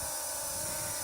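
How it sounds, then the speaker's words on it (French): A small camera drone, a C-Fly Dream, lifts off on a slightly windy afternoon, its propellers giving a steady high-pitched buzzing whine that stays constant and close throughout. "Alors on va déjà faire décoller le drone."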